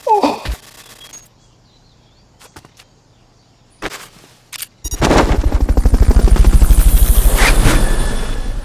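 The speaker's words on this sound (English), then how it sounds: "Fulton recovery subject confirmed onboard helicopter." Brief sharp clicks and thuds, then a helicopter's rotor chops in loudly with a rapid, pulsing beat that swells and stays close, in the video game Metal Gear Solid Peace Walker.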